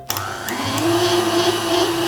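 Electric hand mixer with whisk beaters whirs steadily, its motor pitch settling into a high hum as the beaters spin, close and fairly loud.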